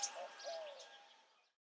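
Warblers in trees in Oaxaca, including yellow-rumped, Nashville and Wilson's warblers, give a few faint high chirps and thin calls. The sound is brief and soft and fades out quickly.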